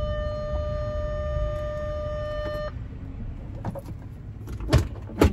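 A car's steady electronic warning tone sounds for the handbrake left disengaged, holding a constant pitch for under three seconds before cutting off, followed by quiet cabin rustling and a couple of soft clunks.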